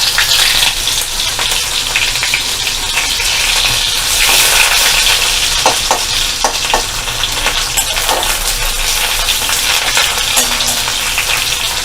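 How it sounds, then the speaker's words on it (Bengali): Chopped onion hits hot oil with reddened cumin seeds over a medium flame, making a loud, continuous, close-up sizzle broken by occasional scraping stirs, with no voices. "তেলটা গরম হয়ে গেছে, জিরেগুলো লাল হয়ে গেছে, এবার আমি পেঁয়াজটা দিয়ে দিলাম।"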